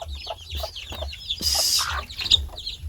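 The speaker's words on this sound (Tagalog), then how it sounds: "mga manok" Chickens clucking in repeated short bursts close by, with a brief louder flurry of squawking partway through; no talk.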